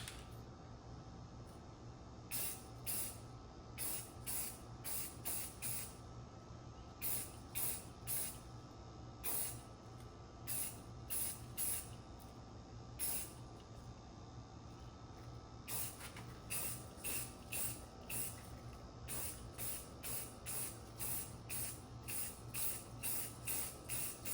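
Spray paint goes on in light coats over a Sig Cross rifle: short, faint hissing bursts repeat in irregular clusters against a quiet background hum, with no voices.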